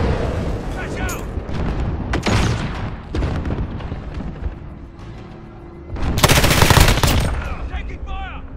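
Automatic weapon fire and explosions in the Modern Warfare video game, dense rapid bursts throughout with loud booming blasts near the end, under occasional voices calling out.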